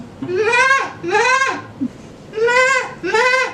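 A human voice mimics a goat's bleat, giving four loud, wavering bleats in two pairs, each with a rising quavering tone, close and clear with short pauses between.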